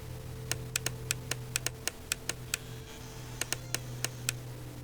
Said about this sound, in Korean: 키보드 막 눌러보자,